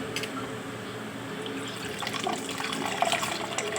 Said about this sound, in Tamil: ரசம் ஊற்றிக்கலாம்.